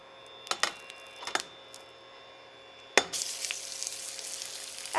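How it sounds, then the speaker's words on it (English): Strips of chicken hit hot olive oil in a pan and start to sizzle, with a few sharp clatters of utensils first, then a steady, fairly quiet frying hiss building near the end. "already got some sizzling going on"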